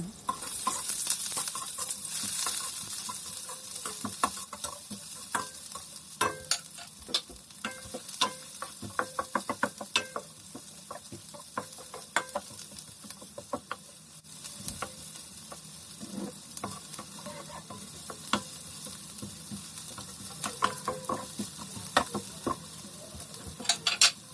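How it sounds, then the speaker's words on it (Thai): Sliced shallots stir-fry in a little vegetable oil in a pan over low heat for a Thai pork belly dish, making a constant close sizzle with frequent rhythmic spatula scrapes and clicks; no speech. "ใส่น้ำมันพืชลงไปเล็กน้อย นำหัวหอมซอยลงไปผัด"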